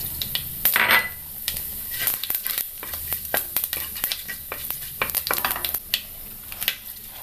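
Fenugreek and cumin seeds hit hot oil in a pan for Thengapaal Pulissery, giving sharp, scattered crackles and clinks over a faint sizzle, close and otherwise quiet.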